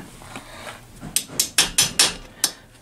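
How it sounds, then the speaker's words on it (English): Hammer blows drive a 6-point socket onto a fastener on a 1966 Honda Benly CA95E motorcycle: six sharp metallic strikes in quick succession, close and loud, over a quiet workshop background. "Hammer that in there."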